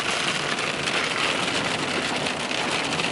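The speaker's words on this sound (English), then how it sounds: "now there's hail all over the ground" Steady hail patters over everything in a dense, even hiss of countless small impacts, with no voices.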